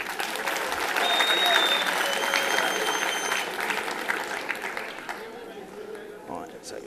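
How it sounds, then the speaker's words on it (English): A crowd at a hospitality convention cooking demonstration applauds for several seconds, the clapping fading toward the end with some voices mixed in. "Round of applause for Keith there."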